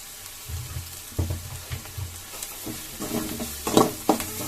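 Kachori filling with onion being stirred in a pan for an aloo kachori recipe: a spoon scrapes and mixes in irregular strokes over a faint sizzle, with a few louder scrapes near the end and no talking.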